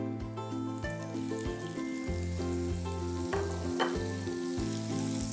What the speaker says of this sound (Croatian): Sada u vruću tavu iznad vatre stavimo polovicu maslaca